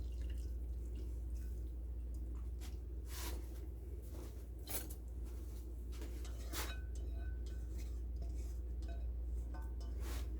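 Whey poured through a strainer while making homemade Mediterranean paneer cheese, a steady soft trickle with scattered drips and light clinks of a bowl, close and fairly quiet over a low background hum.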